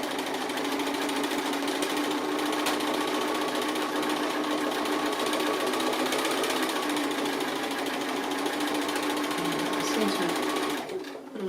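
A sewing machine stitches an appliqué dog design, running as a loud, steady, close mechanical whir for most of the stretch before stopping abruptly near the end.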